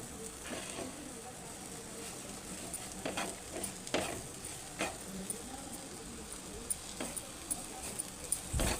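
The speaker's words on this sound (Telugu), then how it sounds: "వేసుకొని మసాలా మొత్తము దాకా ఇలా కలుపుకోవాలి ఇలా మంచిగా కలుపుకోవాలి" Masala is stirred into a bitter gourd curry in a pan: a faint, low sizzle with scattered spatula scrapes and knocks at an irregular rhythm.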